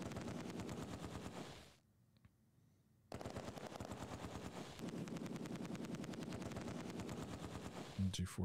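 Machine gun fire in the Close Combat 2 WWII war game: long, rapid, continuous bursts of rattling shots, cut by a brief pause, then resuming steadily with heavier thumps near the end.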